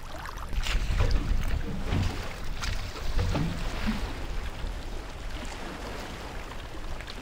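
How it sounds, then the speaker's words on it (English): A simple engineless wooden boat, built from tree trunks, moves on coastal water near mangroves, with soft splashing and lapping and wind buffeting the microphone throughout. "simple craft without engines constructed from tree trunks"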